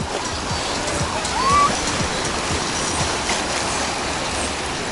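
Sea waves washing in at a beach at Koblevo, a steady broadband rush of surf with repeated soft breaking pulses, fairly close, and a brief faint tonal sound partway through.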